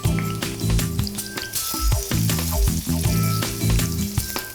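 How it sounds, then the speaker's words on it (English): Brinjals frying in hot sunflower oil, a loud steady sizzle close by, with clinks and stirring scrapes of a utensil in the pan and faint music underneath. "Now let's pop the brinjals into the sunflower oil. Turn up the heat. I'm going to fry these until they turn golden brown"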